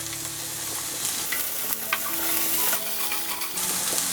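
Garlic, onion, ginger and green chili cooking in avocado oil in a pan give a steady sizzle and crackle, with a spatula stirring and scraping now and then; no one speaks.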